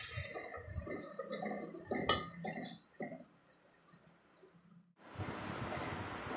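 Water is poured onto sugar in a cooking pot for sweet zarda, with splashy, uneven pouring and clinks close by, then a sudden, steady fizzing hiss near the end.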